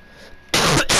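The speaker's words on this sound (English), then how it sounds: "I hate that I'm coughing." A person coughs while playing a video game, giving a loud, harsh burst of two or three quick coughs after a brief quiet moment.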